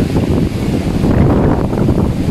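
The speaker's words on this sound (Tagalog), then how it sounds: "Lakas, hangin pa more." Strong typhoon wind blowing outdoors in Urdaneta, Pangasinan, a loud, continuous roaring rush buffeting the microphone close up, steady throughout with no voices.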